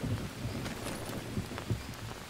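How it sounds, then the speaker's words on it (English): Steady rain falling in the jungle survival game Green Hell, a constant moderate patter with a few brief louder bursts, heard alone with no talking. "It's raining."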